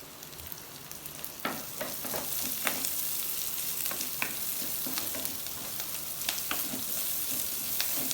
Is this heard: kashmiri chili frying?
yes